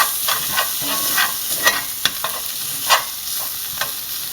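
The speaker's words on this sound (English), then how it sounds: "I'm going to mix all that tomato paste in there." Tomato paste being stirred into a hot frying pan at medium heat for Moroccan chicken: a continuous hiss of frying broken by scraping spoon strokes and soft taps.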